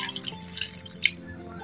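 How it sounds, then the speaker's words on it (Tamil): Water poured into a simmering pumpkin and tamarind curry in a home kitchen, a short close splashing and dripping burst lasting under two seconds with no talk. "அதே அளவுக்கு தண்ணி வந்து ஊற்றிக்கிறோம்"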